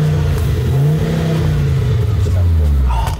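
A high-mileage Italian sports car's engine revs while driving, a loud, close, tonal drone whose pitch climbs and falls steadily under the cabin's noise.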